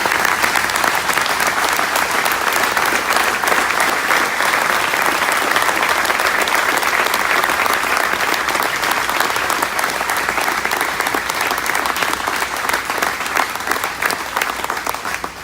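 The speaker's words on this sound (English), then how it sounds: "let's give a round of applause for Wayne and Jeff Kyle" An audience at a memorial benefit for Chris Kyle applauds loudly and steadily, with dense clapping that holds for the whole stretch and eases only slightly near the end.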